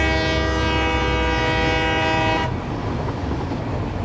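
A train in the Satisfactory video game rolls along the railway, its loud sustained horn blaring for a couple of seconds before cutting off, leaving the continuous rumble of the moving train alone.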